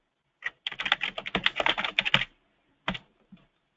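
Rapid keystrokes on a computer keyboard as a model title is typed, a dense burst of crisp clicks followed by a pause and two isolated taps, close and clear with no talking.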